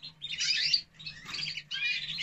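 Male canaries in a breeder's aviary sing in three bright bursts of rapid, close chirping and trilling, separated by brief gaps, with no voices.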